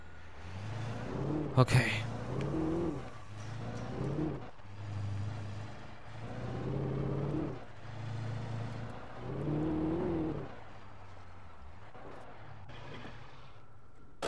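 A car drives along a road in the video game Alan Wake, its engine rising and falling in repeated revving swells, fairly quiet, while a person talks over it.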